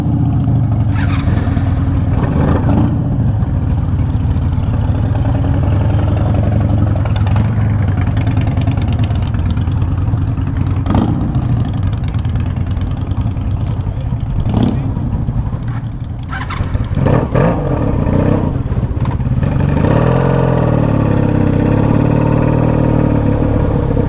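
A Honda motorcycle engine idles steadily close by, a low continuous rumble with brief throttle blips near the end.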